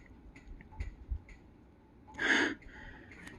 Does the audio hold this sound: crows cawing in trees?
no